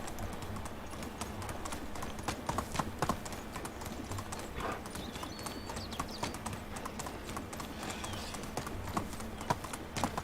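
Horse hooves clop steadily in a quick, even rhythm in the video game Medieval Dynasty over a quiet background, with no talking.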